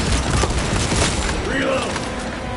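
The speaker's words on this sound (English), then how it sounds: "Grenade deployed." Grenade blast and combat fire in Warhammer 40K Space Marine 2 against Tyranids, dense booming and rattling bursts that fade after about a second and a half, with voice lines over them.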